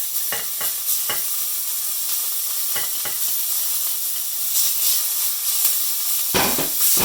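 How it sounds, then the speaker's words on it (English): Thinly sliced pork frying in a super hot pan for yakisoba sizzles loudly and continuously, with brief stirring scrapes and a surge of crackle near the end, no voices. "First things first, I'm going to fry up the thinly sliced pork."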